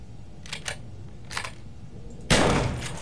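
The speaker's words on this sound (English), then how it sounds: "I got the repair gun and I shot it, right?" A repair gun fires in the video game Empyrion Galactic Survival, giving a few short clicking pulses followed by a louder sustained blast that slowly fades.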